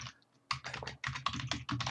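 Rapid typing on a computer keyboard while coding Java in the Eclipse editor, a close, crisp run of key clicks in quick irregular bursts.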